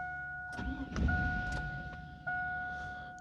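A Chevy engine cranks during a VATS security relearn, with a few short starter bursts amid faint whines and clicks, heard up close and fairly quiet.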